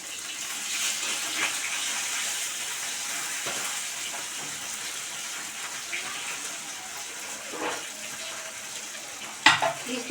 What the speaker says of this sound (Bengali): মাছটা ভাজা চাপিয়েছি